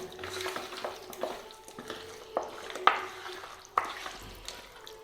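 Chicken is mixed by hand with pepper powder, salt and yogurt in a bowl, giving soft, wet squelches and light clicks in an irregular rhythm, close and fairly quiet, with no speech.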